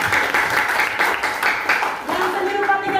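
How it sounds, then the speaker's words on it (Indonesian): A classroom of students applauding for a lesson on two-dimensional art, a steady rippling patter of many hands clapping throughout, with some voices mixed in. "tepuk tangan dong"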